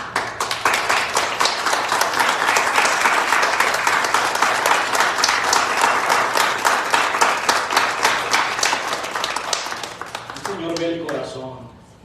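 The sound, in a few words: audience applause in church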